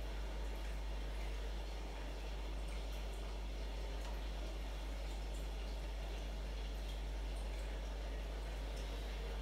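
Water pours steadily into a brine shrimp hatchery bottle, a faint, even hiss of trickling liquid that continues without pause.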